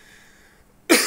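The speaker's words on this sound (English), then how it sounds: "I gotta stop coughing." A single abrupt cough bursts out near the end after near silence, loud and close to the microphone.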